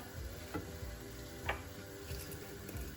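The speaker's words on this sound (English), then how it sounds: "Again, give it a stir." Homemade tomato sauce is stirred in a pan, a low steady simmering sizzle with a couple of soft scrapes from the spoon, close and quiet, no talking.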